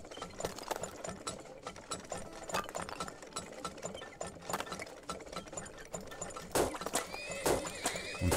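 Horses in the strategy video game Turmoil whinny and clop amid a rapid mechanical clatter, with repeated sharp neighs near the end over the busy background.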